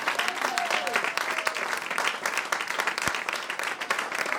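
A church congregation claps and applauds in praise during a worship service, a dense, steady wash of many hands with some voices mixed in throughout.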